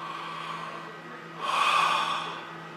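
Slow breath drawn in through the mouth with the jaw held forward during a breathing exercise, a soft steady airy hiss that swells for about a second after quiet room tone, close to the microphone.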